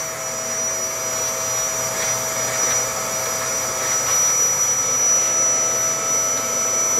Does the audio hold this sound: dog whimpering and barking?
no